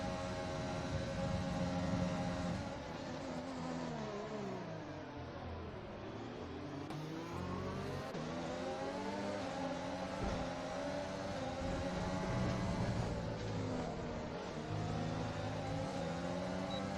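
Several F1 race cars in a video game round a track in China, their engines droning and shifting pitch continuously as they brake and accelerate through a corner, loud and steady throughout with no talk.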